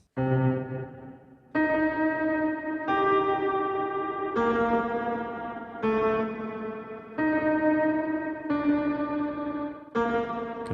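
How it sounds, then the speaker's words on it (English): Heavily processed notes through an Aberrant DSP Lair reverb cut in and out in choppy bursts, each swelling then dropping abruptly, with a glitchy, echoing character. "you're going to hear it kind of chop in and out and become a little bit glitchy"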